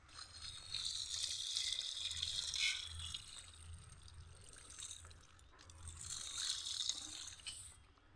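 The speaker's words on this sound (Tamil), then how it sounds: "இப்போது வேருக்கும் ஊற்றி விடுவோம்." Water poured by hand onto the roots of garden plants in two long, steady splashing pours with a short break between, close and moderately loud, no talking.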